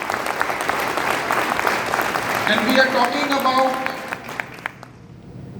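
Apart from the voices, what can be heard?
audience applause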